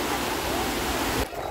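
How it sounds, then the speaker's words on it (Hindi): A lit water fountain at Brindavan Garden in Mysore, near the KRS Dam, makes a loud, steady rushing hiss of falling water that cuts off sharply at the end. "ये देखिए यहाँ से ये फाउंटेन, लाइटिंग के साथ"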